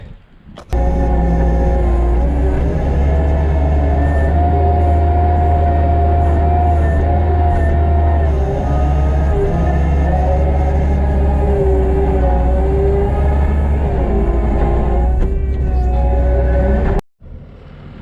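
A Kubota SVL compact track loader works a gravel crusher run driveway, its diesel engine droning loud and constant with steady track and hydraulic whine, then cutting off abruptly near the end.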